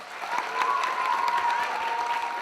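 An audience at a youth mock trial competition awards ceremony applauds steadily and fairly close, a dense, even patter of many hands lasting a couple of seconds.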